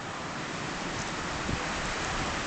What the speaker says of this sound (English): Oh boy, is it windy out here.